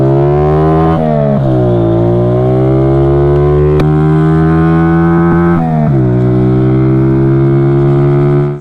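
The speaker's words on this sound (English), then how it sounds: "Here we have the 1995 Honda Magna 50cc" A 1995 Honda Magna 50cc, a tiny cruiser motorcycle, rides along with its small engine droning loud and close throughout, pitch rising and falling with gear changes and throttle.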